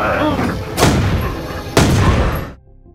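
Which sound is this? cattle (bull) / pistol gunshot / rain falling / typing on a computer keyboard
pistol gunshot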